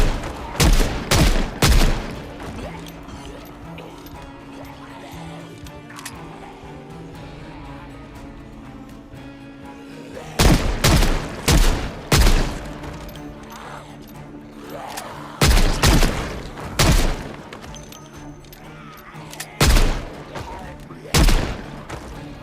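Bursts of gunfire in the zombie survival game Project Zomboid, fired by a character in a gas mask: several loud clusters of rapid shots separated by quieter stretches of background game sound.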